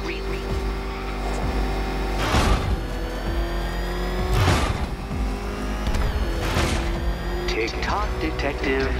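Batmobile racing at speed in Batman Arkham Knight, a steady engine roar with several loud whooshing surges and mechanical clunks, under voices speaking throughout.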